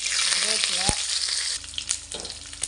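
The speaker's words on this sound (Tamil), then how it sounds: "எண்ணெய் ஊற்றியாச்சு, கடுகு போட்டாச்சு" Mustard seeds hit hot oil in a pan and crackle into a loud, dense sizzle up close, with sharp pops and a stirring scrape, settling into a quieter frying hiss toward the end.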